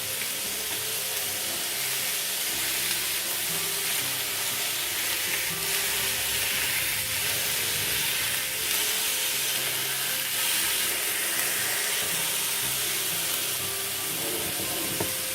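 A chicken soya pancake sizzles steadily on a tawa over a low flame with a brush of oil, giving an even, continuous close-up frying hiss with no talk.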